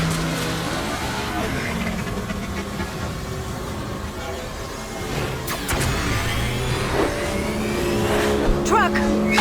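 Taxi car engine in the Mass Effect 2 video game, a loud continuous drone with revving surges while driving at speed, steady and close under intermittent voices.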